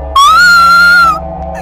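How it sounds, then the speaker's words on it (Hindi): A woman in a horror cartoon lets out a single loud, sustained, high-pitched scream of fright lasting about a second, then cuts off abruptly. "उसकी चीख सुनकर"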